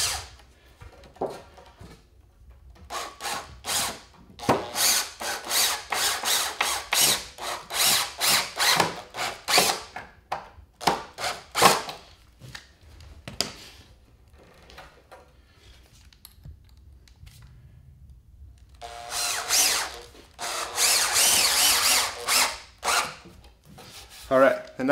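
Screws are driven into 2x lumber while a basement wall with a door is framed, giving bursts of close, buzzing driver whirs and scraping, then a pause and a final long run.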